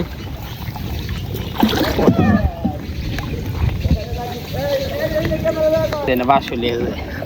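A small wooden rowboat paddled slowly through rainy-season village water, with soft splashes and sloshing paddle strokes heard under nearby people talking.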